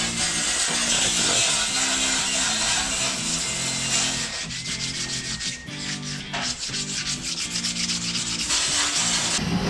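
Motorcycle side covers are sanded by hand with 800 grit sandpaper, giving continuous close rasping strokes in a steady back-and-forth rhythm, loud and alone with no talk.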